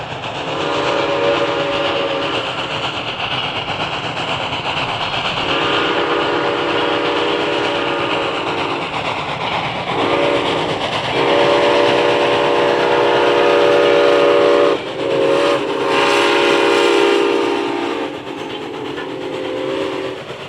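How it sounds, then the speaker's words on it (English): Southern Railway 630 and 4501 steam locomotives run as a doubleheader on the Summerville Steam Special. Loud, close steam whistles blow in repeated long and short blasts over the rolling rumble and clatter of the train. "Now let's watch the Southern Railway Summerville Steam Special doubleheader with Southern Railway 630 and"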